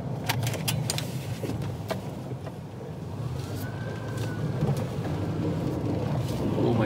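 Noisy tires on a used Subaru SUV hum in a steady, broadband road roar inside the moving car, growing slightly louder, with a few light clicks near the start.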